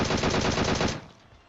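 Rapid automatic M4 rifle fire in PUBG, a dense burst of close, loud shots for about a second that then cuts off into a fading tail.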